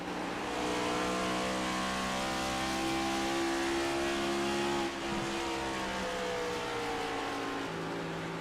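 Onboard a NASCAR Next Gen Cup car at Dover, the engine roars steadily and loud throughout, with faint tire squeal hinted as the car turns into corners; no talk.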